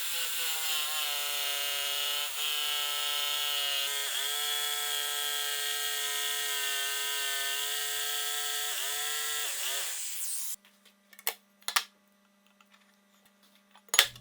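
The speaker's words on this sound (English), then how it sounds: "To make the opening I'll use a jigsaw" A jigsaw with masking tape on its base cuts an opening through a wooden tabletop for a homemade router table, a loud steady buzzing cut lasting about ten seconds with brief dips, then a few scattered knocks in near silence.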